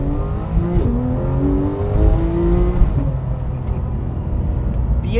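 A Porsche 911 GT3 of the 991.2 generation revs its engine with a steady, loud mechanical howl whose pitch climbs and shifts through gear changes, heard close and continuous from inside the car.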